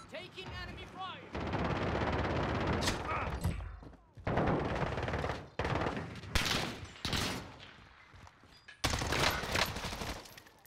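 Call of Duty gunfire from an XM4 rifle, with long loud bursts of rapid automatic fire broken by brief gaps and mixed with other shots and game noise close at hand.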